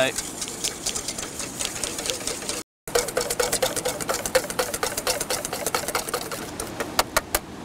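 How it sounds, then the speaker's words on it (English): Cream being whisked to firm peaks in a bowl for a tiramisu, a steady fast rattling whir with sharper clicks toward the end, briefly cut off partway through. "We're going to give it a good whisk up till firm peaks."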